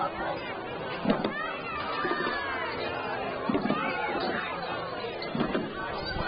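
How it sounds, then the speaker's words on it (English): A parade crowd at the Comox Valley Christmas Parade cheers and chatters in rising bursts after jumps, heard at a moderate distance, faint and muffled over a dense outdoor bustle. "You can hear the crowd going wild after every jump."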